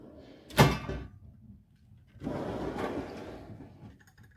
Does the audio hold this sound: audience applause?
no